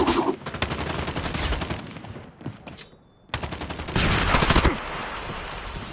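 Rapid gunfire from the mobile shooter game Call of Duty Mobile, loud bursts of automatic shots with a short lull in the middle before firing resumes.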